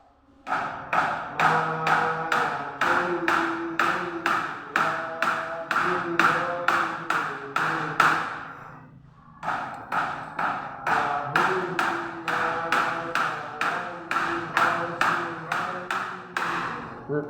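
Steady rhythmic tapping keeps the beat during a group Quran recitation, with even, loud taps about three per second under chanting voices, a brief pause midway, then the same beat resumes.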